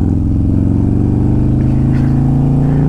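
A 130-cubic-inch Road Glide motorcycle engine pulls hard uphill, a loud, steady, deep exhaust drone that rises slightly in pitch as it accelerates, close to the rider with no talking.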